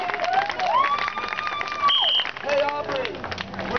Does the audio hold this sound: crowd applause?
yes